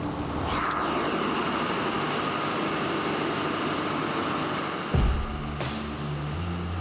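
Emergency power generator engine running inside an airport generator room, a loud steady dense roar filling the space throughout, with a brief clunk and shift in tone near the end.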